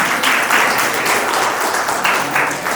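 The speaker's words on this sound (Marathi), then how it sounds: "जोरदार टाळ्या वाजवत राहा" An audience claps in steady, dense applause at a birthday event, loud and close throughout with slight swells, and no talk over it.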